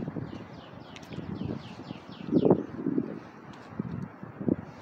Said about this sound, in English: Just got a gust of wind.